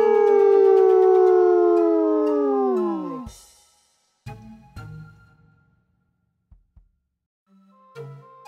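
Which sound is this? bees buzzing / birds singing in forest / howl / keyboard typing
howl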